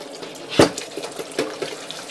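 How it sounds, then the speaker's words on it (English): Water splashes from a kitchen tap over canned bread-and-butter pickle slices being rinsed of salt brine: one sharp gush, then softer intermittent splashes and drips close by. "I'm assuming we rinse them like this is to get a lot of that salt brine off of them."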